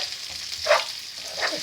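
Pieces of chicken tikka sizzle softly as they brown in a pan, with a couple of brief stirring scrapes over a low, steady frying hiss.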